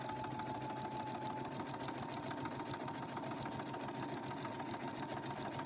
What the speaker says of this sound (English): And sewing the mask together is